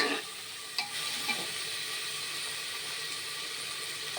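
Potato rice for babies being stirred in a pan, with a soft steady sizzle and hiss and a couple of light scraping knocks of the spoon, close and fairly quiet with no talk.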